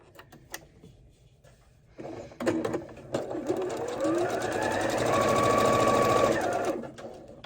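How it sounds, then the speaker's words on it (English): A domestic sewing machine stitches a quarter-inch seam on quilt fabric, starting with a few clicks and handling sounds, then running in a steady whirring burst for several seconds before stopping. "So we just will use a 1/4 inch seam, and we will sew this on."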